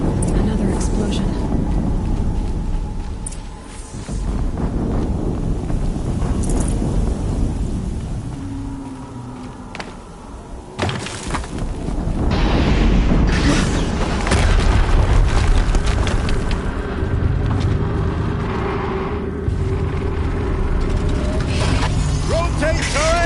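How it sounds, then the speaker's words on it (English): Explosions in a video game roll out as deep, rumbling booms over a constant heavy wash of noise, with loud bursts near the start and the middle and long low tails, and a voice speaking over it. "Another explosion."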